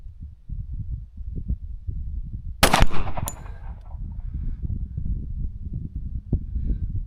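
A Kimber 1911 .45 ACP pistol fires one sharp, loud shot with a short ringing tail, followed by a fainter crack, against steady outdoor wind noise.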